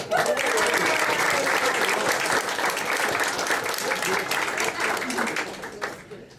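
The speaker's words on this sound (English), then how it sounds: "I'd like to give all of us in the room a round of applause" A Rotary Club meeting room fills with a burst of applause from the gathered members, loud and sustained at first, then thinning out toward the end.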